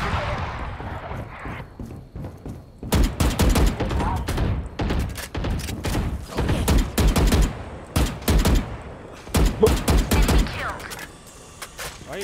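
Video game gunfire: after a quiet start, loud bursts of rapid shots fire in repeated volleys with short gaps, close and harsh, with a faint voice in places.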